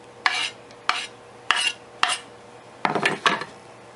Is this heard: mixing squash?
yes